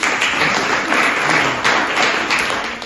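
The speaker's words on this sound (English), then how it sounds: "Give him a round of applause." An audience gives a round of applause for an artist at an event, a steady wash of clapping that runs throughout and fades slightly at the end.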